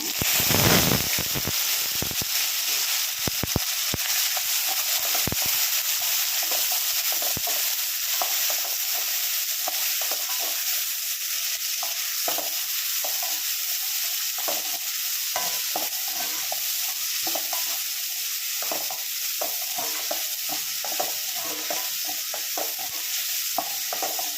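Garlic, two dried red chillies, shallots and tomato fry in an oil pan for a Tamil okra tamarind curry, a steady loud sizzle with frequent stirring scrapes and clinks throughout, no talking.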